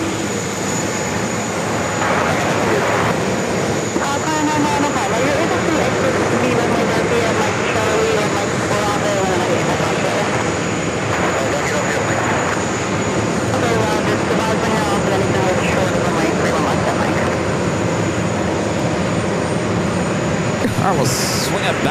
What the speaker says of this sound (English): That is a Frontier A321 Neo.